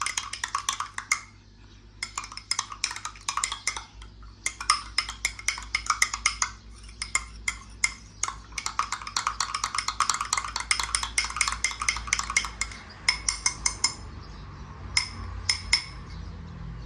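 A spoon stirs honey mustard sauce in a bowl, producing quick bursts of clinking and scraping against the dish with brief pauses between rounds.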